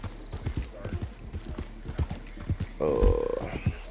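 Horse hooves clip-clopping in a video game, a steady run of hoofbeats under intermittent chatter and game sound, with a brief whinny-like burst near the end.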